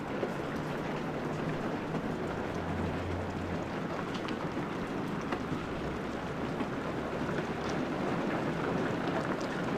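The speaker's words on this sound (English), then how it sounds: "But daggone, it ain't never gonna stop raining." Steady rain falls continuously, a dense even hiss of drops pattering on surfaces with no pauses or voices.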